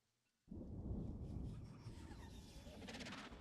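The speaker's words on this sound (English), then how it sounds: "I swear I heard like a real thunder outside" Real thunder outside on a cloudy night in Phoenix, a sudden deep rumble that starts abruptly and rolls on steadily, heard faintly from a distance.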